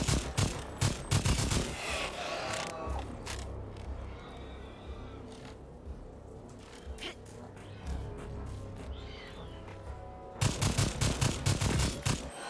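Gunfire in the video game Second Extinction, with bursts of rapid automatic shots at the start and end and sparser sharp shots in between, loud and close over creaking and scraping game sounds.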